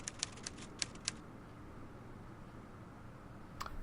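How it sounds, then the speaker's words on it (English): Typewriter keys clacking in a quiet room inside an Agatha Christie mystery game, five or six sharp crisp strikes in quick irregular succession, then a pause before a final clack, faint against a soft background hiss. "I say, Poirot, he seems to be typing up quite a storm."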